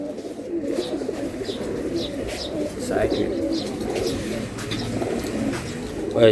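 Giribaj pigeons of a black blood line coo in a low, steady murmur at a market stall, with background chatter and a few higher chirps on top.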